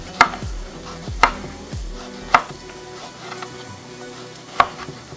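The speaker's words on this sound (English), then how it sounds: "slice the tomato from the middle, and then make another slices" A knife slices through a tomato onto a cutting board for an omelette, four sharp, distinct chops spaced about a second apart, close and crisp over a quiet kitchen background.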